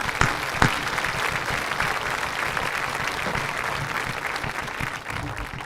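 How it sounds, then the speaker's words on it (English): An audience at a senior awards ceremony claps steadily for students with honors, a dense sustained round of applause from a crowd in a hall. "Let's give them a round of applause."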